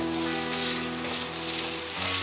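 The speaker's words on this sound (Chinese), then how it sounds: "油热了之后，把姜末和香菜梗末放下来" Minced ginger and chopped cilantro stems sizzle in a small amount of hot oil, a steady close frying hiss with crackle, heard alone without talk.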